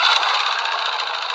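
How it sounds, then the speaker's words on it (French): A large motorized pirogue's outboard engine runs steadily, a continuous droning, rattling hum heard close and loud for the whole moment with no talk over it. "une pirogue à moteur"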